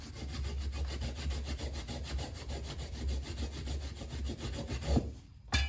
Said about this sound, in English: I am sawing off the sides of these top dorsal fins.